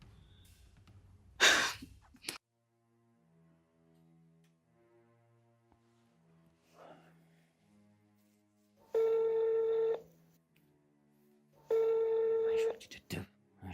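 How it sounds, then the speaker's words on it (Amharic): A telephone rings twice indoors in a domestic drama scene, each ring a loud, steady electronic tone lasting about a second, with faint breathing and soft rustling in the quiet before it. "የሁሉ ሰዓት ስልኩ ሲጠራ ማታነሺው እዛ ምን እየሰራሽ ነው?"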